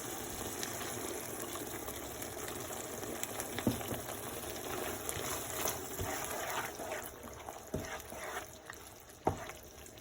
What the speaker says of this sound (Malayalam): കുറച്ചുകൂടെ വെള്ളം ഒഴിച്ചു കൊടുക്കാം.